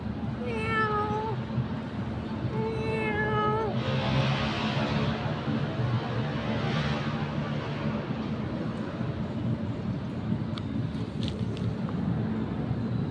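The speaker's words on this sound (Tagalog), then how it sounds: "Nakita ang pusa yan, diba?" A cat meows several times in short rising calls at the start, over a steady rumbling noise like traffic or wind, then the meowing stops.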